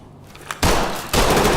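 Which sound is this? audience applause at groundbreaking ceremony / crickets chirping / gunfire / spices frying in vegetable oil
gunfire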